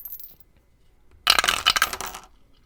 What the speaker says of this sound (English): Come on, sweet Dice Tower.